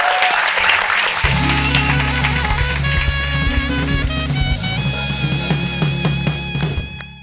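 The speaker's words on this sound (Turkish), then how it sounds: "Alkışlıyoruz Göksu Hanım'a." Studio audience applause at the close of a late-night talk show, steady clapping under loud closing theme music with a strong bass line.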